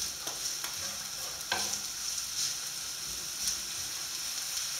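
Roscoff onions fry over high heat in a pan, a steady close hiss and sizzle with occasional stirring scrapes, continuous and without talk.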